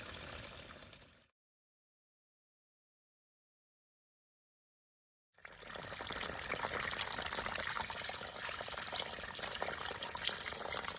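Water gushes into a wildlife water tank and spills over, running downhill. A brief burst of pouring is followed by silence, then a sustained, fairly loud rush of flowing and splashing water.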